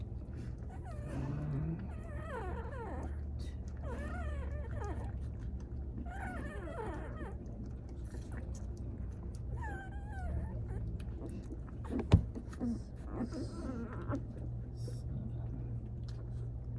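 Four-day-old Bullmastiff puppies whimper and squeal in a series of thin, rising cries over a steady low hum, with faint soft murmuring in the background and one brief sharp knock near the end.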